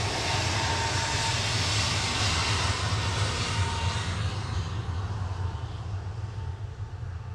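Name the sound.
Airbus A321neo airliner departing to Fuerteventura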